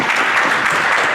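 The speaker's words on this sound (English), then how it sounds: "Give her a round of applause as she comes." Steady audience applause at a YSEM conference session, a dense, even wash of clapping from a room full of people, brief and alone without talk.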